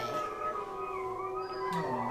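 Several dogs howl together in a video game, long wavering overlapping howls that rise and fall for a couple of seconds, fairly loud and close, with no one talking.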